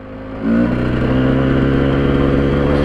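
A Husqvarna SM125 two-stroke supermoto engine idles, then rises sharply into a loud, steady rev with a buzzy, droning tone held to the end; the throttle cable appears faulty.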